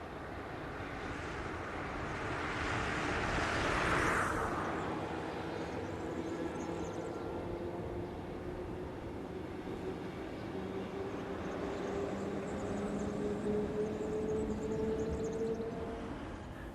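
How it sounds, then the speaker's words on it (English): A lineup of locomotives rolls past the main reception sidings of a rail yard near Dijon, a steady distant engine drone and rumble that swells to a peak early on and then holds, with a faint whining tone. "Passing by the main reception sidings on the north side of the complex is this lineup of locos"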